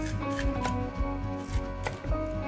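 A knife dices lotus root into 1cm cubes on a cutting board, giving a steady series of close, crisp chops with a few sharper strikes against a low background hum.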